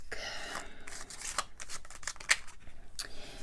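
Tarot cards are shuffled by hand during a reading, giving soft, irregular riffling and sliding rasps that run on continuously and sound close, with no one speaking.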